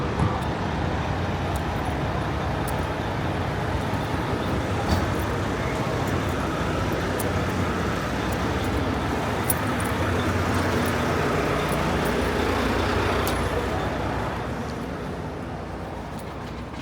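Steady roadway noise with passing vehicles and idling engines fills a truck stop where truck drivers are fueling up, broad and continuous, easing off slightly near the end.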